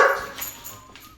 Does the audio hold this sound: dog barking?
yes